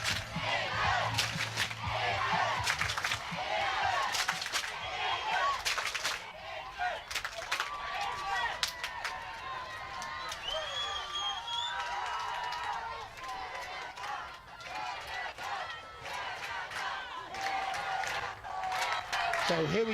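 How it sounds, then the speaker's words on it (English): Spectators at a women's lacrosse World Cup match between England and Canada cheer and shout in a continuous roar, with a commentator talking over the crowd noise throughout. "The crowd are very into this game now."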